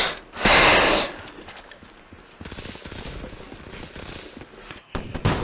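Gunfire in Call of Duty: Black Ops 3, opening with a loud, dense burst of rapid shots, then quieter scattered game noise and rattling, with another short burst at the end.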